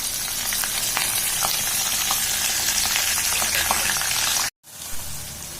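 Curry leaves dropped into hot oil with cumin and mustard seeds fry with a loud, continuous crackling sizzle that runs steadily, then cuts out abruptly for a moment before resuming more quietly.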